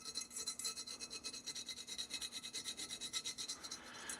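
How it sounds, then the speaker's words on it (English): A copper penny rubbed back and forth over rusty gun metal to lift the rust, giving a steady, close rhythmic rasping scrub with even strokes throughout, no voices. "it's going to take some pretty good rubbing to get all of this off of here"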